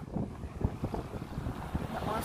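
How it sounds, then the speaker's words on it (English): Hard breeze gusting across a road construction site being turned into a highway, a steady rushing wind buffeting the microphone with low rumbling bursts throughout, close and fairly loud with no talk. "you hear the breeze in the background. The breeze blow hard"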